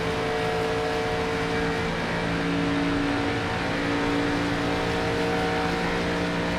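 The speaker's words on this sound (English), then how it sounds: "you hear an engine exactly like this" A race car engine roars in NASCAR 25, a steady, loud, sustained drone with a constant pitch and no voices over it.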